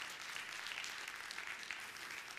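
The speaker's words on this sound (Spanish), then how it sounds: "¿Alguien da un aplauso por ahí?" Audience applause at a talk, a steady dense patter of many hands clapping, fairly faint and distant, continuing evenly without voices.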